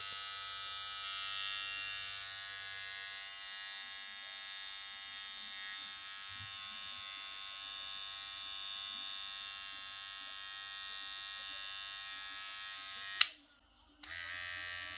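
A Wmark NG-202 hair trimmer runs at turbo speed, a steady close electric buzz that holds evenly and cuts off abruptly near the end, with a voice talking faintly underneath.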